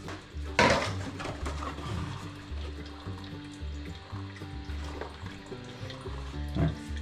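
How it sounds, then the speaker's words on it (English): Water rushes steadily into a toilet tank as it refills during a plumbing job, a continuous hissing flow with a few clunks and knocks, close by, with no talk. "I'll wait for this to fill up."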